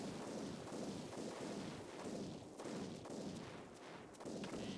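Grenades exploding repeatedly in the handheld video game Boktai, a dense, continuous barrage of loud booming blasts that runs throughout without a break.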